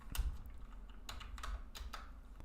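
Soft, close keystrokes on a computer keyboard during a web development study session, irregular clicks over a low steady background hum, with no talking.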